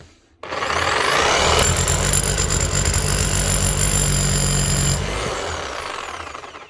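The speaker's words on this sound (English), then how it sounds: "And she's hammering again." A repaired 2018 Metabo KHE 5/40 rotary hammer with new motor bearings and brushes runs loud and close. A steady motor whine carries a rapid hammering clatter that stops near the end, and the motor then winds down.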